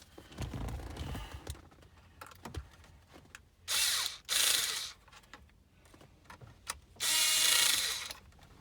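A power drill set to low torque drives nuts back onto a Ford HVAC/EATC climate control unit. Bursts of high whirring come with a clicking ratchet, two longer runs separated by quiet fiddling and clinks.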